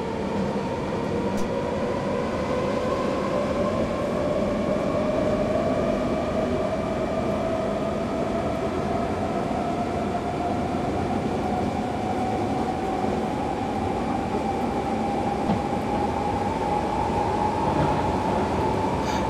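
A BR 420 electric train in Train Simulator 2015 runs the Tutzing to Munich route in Germany, giving a steady, loud rolling rumble with a rising motor whine throughout and no talking.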